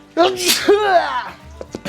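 A single sneeze, close and voiced, trails off into a brief exhale, with a couple of small clicks after it.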